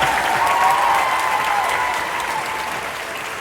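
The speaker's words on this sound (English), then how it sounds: "Welcome everybody to the class of 2025 graduation. Let's get a round of applause." A crowd of friends and family applauds at a high school graduation ceremony in a gym, broad sustained clapping that is loud at first and gradually tapers off, echoing in the large room.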